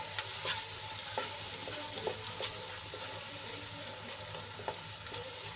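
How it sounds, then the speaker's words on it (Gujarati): Spices with salt and garam masala powder are stirred and sautéed in a pan for a vegetable curry gravy: a soft, steady sizzle with light scraping strokes, quiet and close. "મિક્સ કર્યા બાદ આપણે એને થોડીક વાર માટે સાંતળી લઈશું જેથી કરીને આપણા મસાલા સંતળાઈ જાય"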